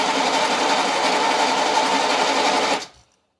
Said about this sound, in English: So we're going to go ahead and crank through 5 compression strokes.